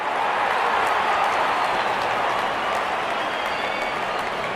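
A broad, steady wash of crowd applause fills the whole stretch, many hands clapping together at an even loudness with no pauses, as a batsman reaches fifty at an IPL cricket match between SRH and KKR.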